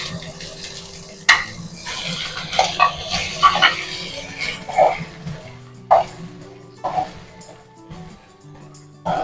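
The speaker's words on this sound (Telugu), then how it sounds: "ఇప్పుడు ఆకు కడాయిలో ఫ్రై చేసుకోవాలి." Leaves fry in a kadai with sesame seeds and chilli, sizzling softly while a metal spoon stirs and scrapes the pan in irregular clinks, near and moderately loud, with no one talking.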